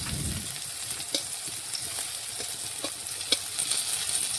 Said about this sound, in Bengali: এইভাবে উল্টে পাল্টে একটু লাল লাল করে ভেজে নেব